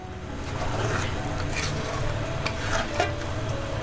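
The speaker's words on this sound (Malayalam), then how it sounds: "പതുക്കെ ഒന്ന് മിക്സ് ചെയ്ത് കൊടുക്കാം." Coconut milk being gently stirred into a simmering Kerala king fish curry, a steady low sizzle and bubbling with soft scraping movements throughout, close and moderately loud, no voices.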